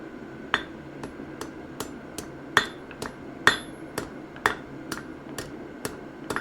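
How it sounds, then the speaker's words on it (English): Hammer blows striking a steel punch on an anvil to bend it, a steady run of sharp metallic strikes roughly every half second, close and ringing over a low background hum. "We're going to curve this punch now. And I'm going to use the feature on the anvil that no one else has."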